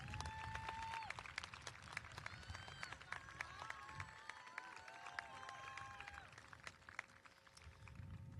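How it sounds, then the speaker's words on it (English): Audience applause at a St. Thomas Aquinas College commencement ceremony, a sustained crowd of clapping heard from a distance with cheers and voices woven through it. "Let's give them a round of applause"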